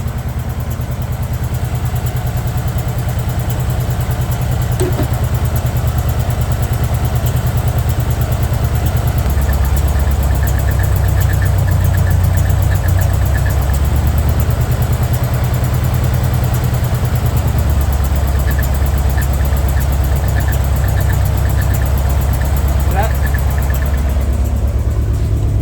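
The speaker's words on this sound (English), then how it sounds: "Well, I was wrong. It's idling better. It doesn't want to die." A car engine idles steadily and close after a distributor adjustment, with an even low rumble that holds for the whole stretch.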